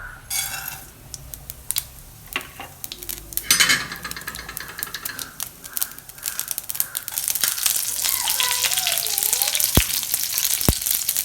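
Mustard seeds and urad dal crackle and pop in hot oil in a pan, a broadband sizzle rising and growing denser toward the end, with sharp spattering pops and some clinks of a utensil.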